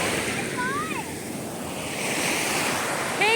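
Ocean waves wash onto East Coast Park beach in Singapore, a steady loud surf rush with wind buffeting the microphone and ships offshore; a voice talks faintly in the background.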